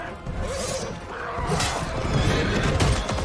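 Horses whinny amid a loud, chaotic battle scene from The Rings of Power with crashing noise and movement, the calls rising briefly over a dense background.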